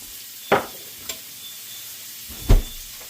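Partridge meat fries in a pan on a tailgate under a light steady sizzle, broken by two distinct scraping stirs and a faint tap in between, heard close with no talking.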